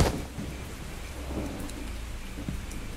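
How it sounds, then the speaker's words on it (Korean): Rain falls steadily outside a late-night 24-hour laundromat, with a sharp thunderclap at the start and a low rumble of thunder beneath the continuous hiss of the downpour. "아, 비 온다."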